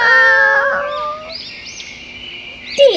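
Small baby birds chirping in a tree in a cartoon story, heard as bright, close, sliding tonal calls that fade into fainter chirps, with a brief sharp call at the end.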